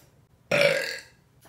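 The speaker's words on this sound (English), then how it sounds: "I have to like burp big enough in order to get it out." A loud, single burp erupts suddenly and holds for about half a second, then trails off into quiet, with no talking around it.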